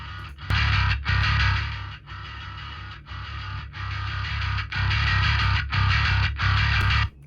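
A soloed part in a studio mix runs through the Sunset Studio reverb plugin, giving a gritty, distorted tone a roomy ambience like an isolation-booth room mic. Loud sustained phrases repeat with brief breaks, with no talking.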